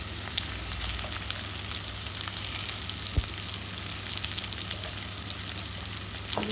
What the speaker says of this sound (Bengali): দিয়ে দিব টমেটো, একসাথে দিয়ে দিব, হালকা কষিয়ে নিব